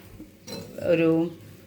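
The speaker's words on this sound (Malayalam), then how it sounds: "ഇതുപോലെ ഇളക്കി ഡ്രൈ ആക്കി എടുക്കുകയാണ് വേണ്ടത്" A spoon stirs and scrapes ground coconut chutney powder with coconut oil and mustard seeds in a heavy pan, giving a short metallic clatter and scrape that a voice partly talks over.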